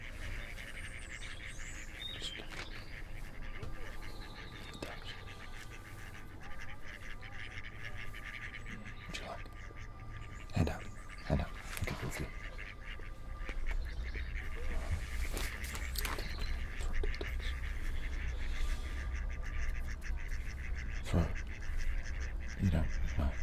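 Ducks quack intermittently at low level in a park, their calls scattered among faint ambient noise and occasional nearby voices, with a steady outdoor rumble building toward the end.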